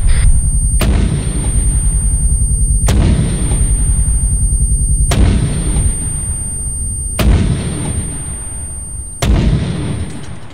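Artillery rounds fire one after another in the video game ArmA 3, five heavy booms spaced about two seconds apart, each loud and sharp with a long rumbling tail.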